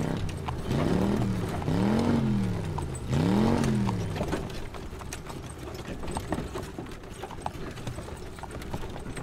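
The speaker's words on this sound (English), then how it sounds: "I have to keep playing the wagon wheel sound as we go by" In a GTA 5 roleplay, a wagon wheel sound effect plays as a rhythmic clip-clop of hooves. Three wavering tonal swells ride over it early, and then the clopping carries on more faintly, with no talk.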